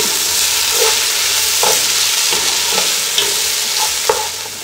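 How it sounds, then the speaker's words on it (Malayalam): Coriander and mint leaves sautéed in biryani masala for a Kerala-style chicken biryani, a spoon stirring and scraping the pan in repeated strokes over a loud, steady frying sizzle, close up and without speech. "എന്നിട്ട് കുറച്ച് നേരം വഴറ്റണം."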